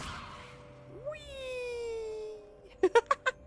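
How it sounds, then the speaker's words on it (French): A cat in the video game Hogwarts Legacy gives one drawn-out meow, followed by a few short, sharp sounds. The meow is close and moderately loud over quiet background. "Oh, un chat."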